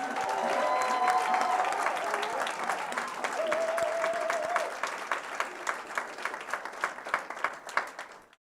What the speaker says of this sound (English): ladies and gentlemen, give yourselves a round of applause